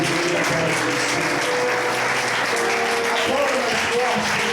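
A church congregation claps together in a steady, dense roar of applause that fills the room at close range and holds loud and unbroken throughout.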